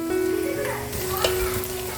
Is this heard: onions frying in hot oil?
yes